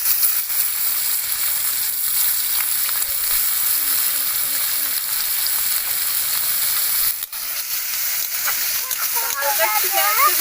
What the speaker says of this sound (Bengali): হালকা একটু পেঁয়াজকে ভেজে নেব